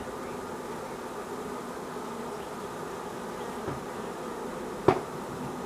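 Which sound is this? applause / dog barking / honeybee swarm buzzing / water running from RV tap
honeybee swarm buzzing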